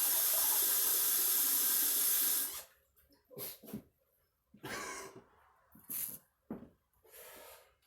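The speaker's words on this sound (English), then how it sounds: "put 1 full cup of water" Water pours steadily from a cup for about two and a half seconds in a woodstove kitchen, a full continuous splash that then stops, followed by a few short scattered clinks and handling noises.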